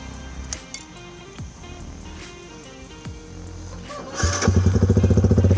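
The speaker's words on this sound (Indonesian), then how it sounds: "kita hidupkan dulu motornya terlebih dahulu" A Yamaha R15 V2 sport motorcycle cranks with a few clinks and clicks, then catches near the end and settles into a loud, rapid, pulsing idle close by.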